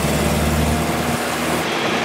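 Vintage Series 1 Land Rover engine under load while driving along a straight road, a loud, continuous, gravelly drone with rumbling low end that drops off slightly near the end as the throttle eases.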